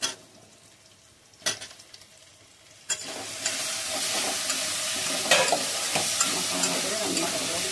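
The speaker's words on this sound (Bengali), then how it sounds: "আলুটা একটু কষিয়ে নেব মশলার ভিতরে দিয়ে" Potatoes being stirred and sautéed in a spice masala in a pan: a quiet start with a couple of scrapes, then a loud steady sizzle from about three seconds on, with occasional utensil clicks against the pan.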